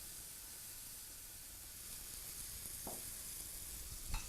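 An egg white frittata made from five large eggs fries in a drop of oil in a pan, a soft, steady sizzle with a couple of faint clicks.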